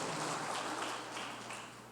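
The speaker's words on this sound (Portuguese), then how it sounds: "Agradeça Ele com as palmas" Church congregation clapping, a dense continuous patter of many hands at a steady level, close and fairly loud, tapering slightly toward the end.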